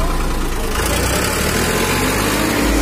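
A used Swaraj 855 FE tractor at a tractor market in Barnala runs with a loud, steady, close diesel rumble that holds evenly throughout with no talk over it.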